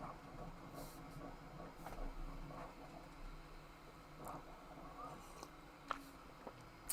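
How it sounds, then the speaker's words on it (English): A printer runs continuously during a live online calculus lesson, a faint, steady mechanical whir and rumble with occasional soft clicks, heard alone without speech. "my printer is running non-stop"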